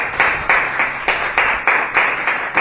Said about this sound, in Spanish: Den un aplauso a Dios, hermanos.